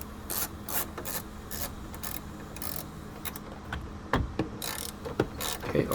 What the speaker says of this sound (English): now we're going to go ahead and just tighten back down the screws, the 4 screws we did before